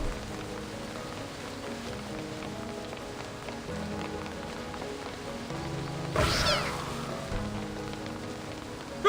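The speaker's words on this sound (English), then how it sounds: "What are all these splinter cats doing here?" Splinter cats meow in the video game Reverse: 1999, faint cries over a soft musical game backdrop with a rain-like hiss, and a brief whooshing sweep late on.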